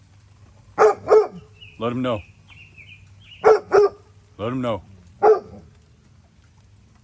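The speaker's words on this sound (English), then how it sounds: "I got a ferocious bark, but I'm a teddy bear" A farm dog barks in short, sharp bursts, several single and paired barks spaced over several seconds, interleaved with a voice talking.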